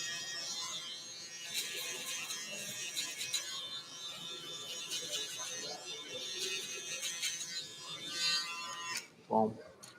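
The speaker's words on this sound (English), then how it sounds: "Now we're going to use our shaver. Just going to get it nice and close to the skin." Electric shaver running close against the skin while finishing a fade haircut, a steady buzzing under continuous talk, ending with a brief thump.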